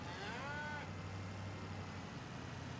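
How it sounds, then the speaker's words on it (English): A cow lets out one long, low moo, with faint engine rumble from a car or truck underneath. "Oh, we hear the cattle."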